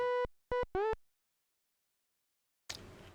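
Famitracker chip synth on the Famicom disk system channel, playing a custom-drawn waveform shaped like a steep rising diagonal. It gives three short buzzy bleeps, the last one bending upward in pitch, then silence and a brief burst of noise.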